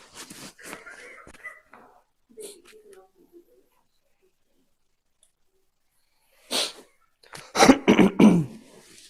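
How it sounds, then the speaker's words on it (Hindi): A person coughs several times in quick rough bursts near the end, loud and close, after earlier stretches of speech and quiet pauses. "थोड़ी खांसी है भाई, बुरा मत मानियो"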